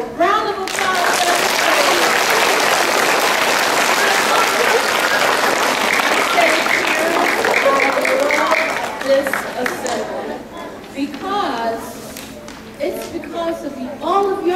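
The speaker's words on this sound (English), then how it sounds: "So let's give all of them a round of applause." Loud, dense applause from a large crowd at a school Student of the Month event fills several seconds, then fades into scattered claps and chatter as a voice begins speaking.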